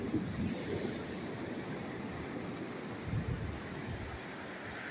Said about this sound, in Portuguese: A onda d'água tá chegando já.